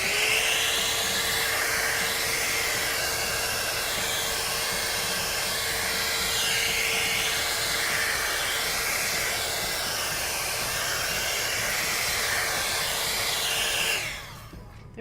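A heat gun blows steadily on freshly poured acrylic paint, a loud, even hissing whir with a faint tonal hum that runs without a break and cuts off near the end.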